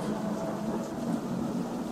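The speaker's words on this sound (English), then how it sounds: "Quite a storm out there tonight." A thunderstorm with heavy rain at night, a continuous dense roar of rainfall with low rumbling thunder, loud and steady with no voices.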